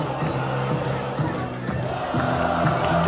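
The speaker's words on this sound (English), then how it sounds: "You can hear the crowd" Roaring crowd at a Friday night boys' high school football game, a dense, continuous wall of cheering and shouting voices with rising swells, heard from within the stands.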